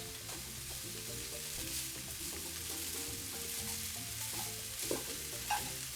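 Noodles sizzle and are stirred with vegetables in a hot pan for Mauritian stir-fried noodles, a steady close frying hiss with scraping and tossing clatter throughout.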